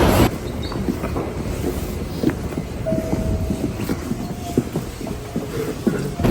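A train rumbles at a Japanese station, with a steady broad noise of rolling wagons, faint clicks and a brief squeal, close and fairly loud, with no talk over it.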